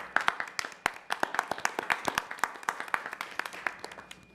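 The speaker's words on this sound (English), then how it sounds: "If we could please give them a round of applause for their." A small group at a village board meeting gives sparse, distinct hand claps in an irregular rhythm, fairly close and moderately loud, with no voices over them.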